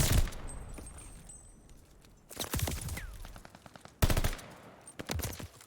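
Rapid automatic gunfire bursts in a competitive Call of Duty match, several sharp volleys separated by brief pauses, close and loud without talk over them.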